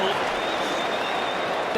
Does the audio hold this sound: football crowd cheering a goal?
yes